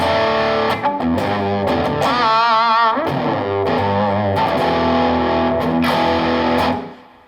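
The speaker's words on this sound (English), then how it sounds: "But with electric, we can get distortion." Distorted electric guitar plays power chords through an effects unit, a loud, thick, sustained crunch with chord changes and a brief bending passage, ringing out and fading at the end.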